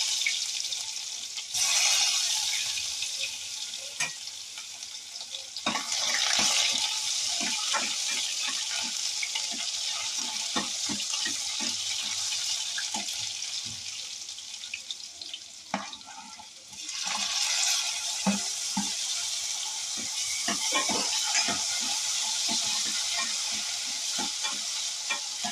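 Onion frying in hot oil with cumin and mustard seeds for a traditional Khandeshi khichdi, a loud continuous sizzle broken by bursts of stirring and spoon scrapes against the pan.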